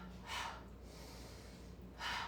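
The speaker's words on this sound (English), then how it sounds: "Exhale, exhale, inhale" During a Pilates mat workout at home, two short, forceful breaths are pushed out through the nose about two seconds apart, close and fairly soft, with no talking.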